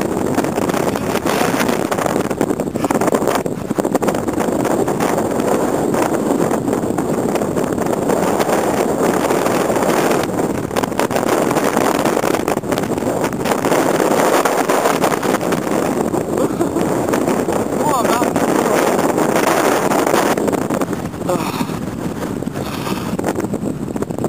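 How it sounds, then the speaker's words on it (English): Brisk wind near the Pikes Peak summit at about 12,700 feet, roaring steadily and loudly across the microphone as constant buffeting rumble, with no voices. "The wind's a little brisk up here."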